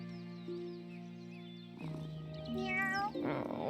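A cat in Wylde Flowers gives a few short, close meows, heard over gentle game music.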